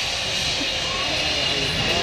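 RC scale B-52 model plane flying overhead, a steady whining engine roar with a bright hissing edge, continuous and fairly loud, with no other sound on top of it.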